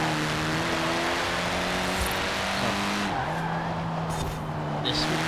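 A Honda S800 in the racing game Forza Horizon 4 drives with a steady, droning engine tone while its tires squeal, under faint commentary from a player.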